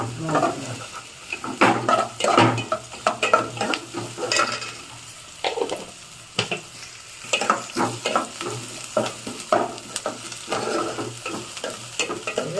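Oil frying briskly in a pan while a spoon stirs the tempering for a chickpea flour (kadale hittu) sambar, with close, steady sizzling broken by repeated scraping strokes.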